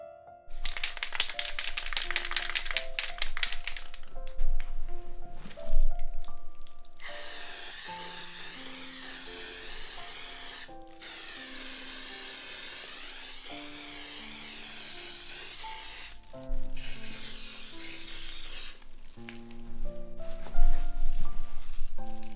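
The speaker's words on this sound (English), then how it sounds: "I've got this Deco Spray Fibio paint." Deco Spray Fibio paint hisses from a can onto a large canvas in a few long, steady bursts, set against background music with short breaks between sprays.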